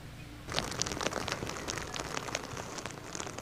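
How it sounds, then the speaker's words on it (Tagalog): Heavy typhoon rain starts suddenly and pours down in a dense, crackling hiss, patter and drips on nearby surfaces at Kasiguran, Aurora, steady and without voices. "malakas na hangin na sinasabayan ng pabugso-bugsong pag-ulan ang nararanasan natin dito sa Kasiguran sa Aurora"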